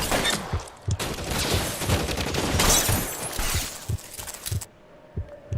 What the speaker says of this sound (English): wieder Schießerei